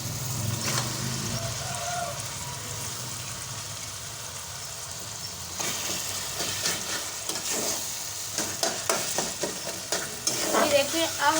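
A spoon stirs chopped bottle gourd into spiced masala already fried in a pan, with steady scraping and a continuous sizzle that grows busier and more clattery toward the end.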